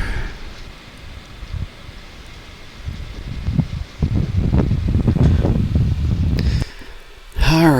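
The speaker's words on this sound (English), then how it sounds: "And of course windy." Steady wind buffeting the microphone, gusting stronger through the middle with low rumbling bursts, then easing before a brief different noise at the end.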